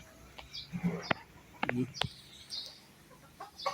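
Backyard chickens cluck in short, scattered bursts as they are fed coffee-soaked feed and rice, with people talking close by between the calls.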